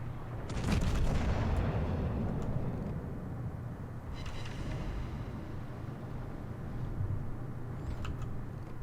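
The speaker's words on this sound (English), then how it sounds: "So I get my rear turrets going on that" Rear gun turrets of a warship firing in World of Warships, a heavy booming salvo up close that trails into a long rumbling roar, with a second, quieter blast rolling out partway through.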